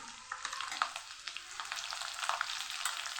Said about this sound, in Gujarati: જીરું સરસ ફૂટી જાય એટલે આપણે એમાં લીલા મરચાં ઉમેરીશું